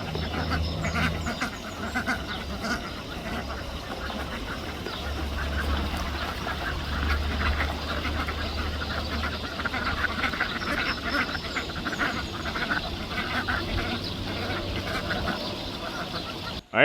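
Ducks quack continuously in a busy chorus over a steady low hum, moderately close, near a farm field pond before a storm.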